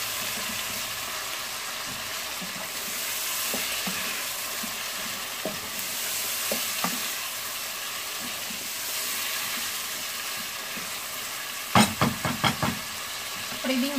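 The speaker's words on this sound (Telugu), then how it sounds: "ఇప్పుడు దీంట్లో టమాటా ముక్కలు, వీటిని కూడా కాస్త వేయించుకున్నాము." Tomato pieces fry in a pan for a cucumber and dried fish curry, a continuous close sizzle with occasional faint pops, ending in a quick burst of clattering stirring knocks against the pan.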